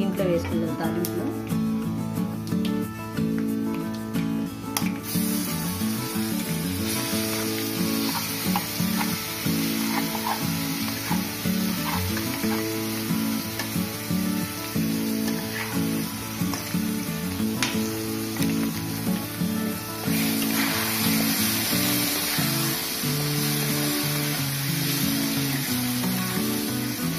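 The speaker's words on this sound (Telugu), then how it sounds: "దీన్ని దీంట్లో వేసుకుందాం తాలింపులో" Ground gongura leaves sizzle and fry in an oil tempering for Andhra gongura pachadi made with green chillies, a steady crackling hiss beneath a person talking, with stirring noises throughout.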